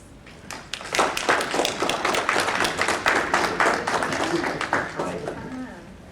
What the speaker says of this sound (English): I want you all to please clap it up for Rodney